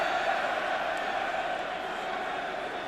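Near 52,000-strong crowd at a 1993 Five Nations rugby match between Wales and England roaring encouragement, a dense, sustained wash of distant voices filling a stadium.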